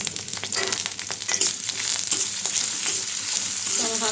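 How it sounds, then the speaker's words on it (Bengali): Onions and green chilies sizzle hard in hot oil over a full gas flame, a continuous crackling fry with occasional stirring scrapes, close and loud with no talking. "হালকা একটু পেঁয়াজগুলো ভেজে নেব।"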